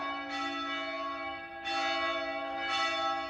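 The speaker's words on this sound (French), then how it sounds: "Je savais que j'allais entendre les cloches, mais alors ça y va là." Church bells ring loudly in a French town, their sustained tones swelling in three successive strikes with a long humming resonance between them.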